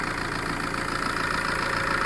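A car engine idles steadily nearby, a continuous low rumble with a faint rhythmic pulse, no voices over it.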